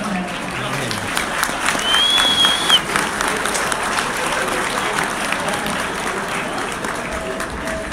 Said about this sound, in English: Please give him a big round of applause to welcome back to Huskies tonight